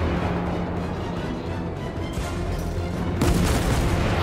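Naval gunfire in the World of Warships game, dull booming salvos and rumbling blasts layered over a continuous battle din, growing louder near the end.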